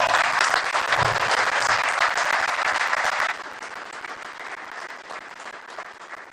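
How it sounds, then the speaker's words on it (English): Audience applause at a Pittsburgh Light-Up Night 2025 press conference, honoring a man named Jeremy: a dense, steady burst of clapping that drops to a quieter, thinning patter about halfway through. "I'd like for everybody to give Jeremy a round of applause"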